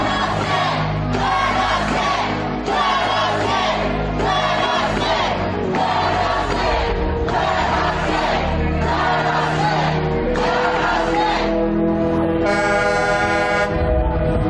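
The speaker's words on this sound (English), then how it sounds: "I want to move out of the way and show you a look at this crowd, at least a couple thousand people here on the Capitol lawn" Crowd of a couple thousand protesters on a state capitol lawn, loud rhythmic chanting in repeated bursts with car horns honking, the mass of voices close and sustained throughout.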